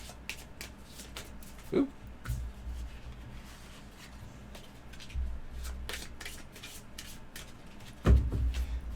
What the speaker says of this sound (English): we're going to actually shuffle these up